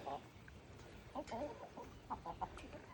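Chickens, including young pullets, cluck softly in short scattered bursts while pecking at fermented feed, fairly close, with a steady hiss of background noise beneath.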